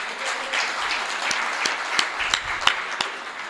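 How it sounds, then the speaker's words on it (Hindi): An audience at a Hindi comic poetry gathering claps in a brief, lively burst, with a few louder individual claps standing out over the crowd's steady applause. "ताली वाली बजा दो आप"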